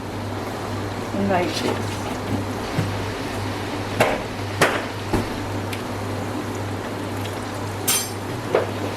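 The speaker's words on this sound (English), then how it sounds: "I will put 3 to 4 and then I will fry the rest of them" Pakoras fry in hot oil with a constant broad sizzle, punctuated by a few sharp clinks and clatters from the pan or utensils, while someone talks over the cooking.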